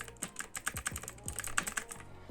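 Rapid, loud clicky keystrokes on a Corsair K95 Platinum mechanical keyboard rattle in an irregular rhythm, close up, with no talking.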